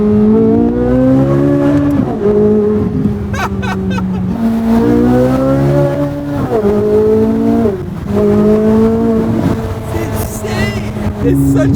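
A C8 Corvette Z06 engine revs hard at full throttle and climbs through the gears, rising pitch repeatedly dropping at shifts, loud and close from inside the car.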